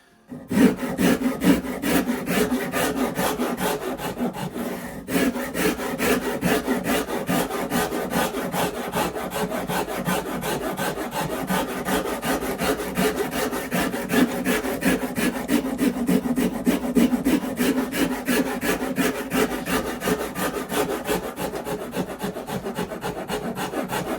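Rasp shaping wood on an acoustic guitar build, close rhythmic rubbing and scraping strokes repeating steadily for over twenty seconds, alone.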